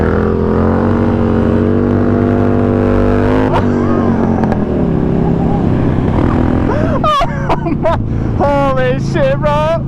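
A 2000 Harley-Davidson Road Glide bagger motorcycle, loud and close, its engine droning steadily before revving and changing pitch as it lifts into a wheelie, with excited voices shouting over it near the end.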